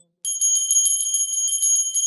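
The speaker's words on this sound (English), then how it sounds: "please ring the bell as you do so" A small hand bell rung steadily during an arati worship ritual before a Shivalinga, giving rapid, bright, evenly repeated metallic rings that sound alone and close for about two seconds.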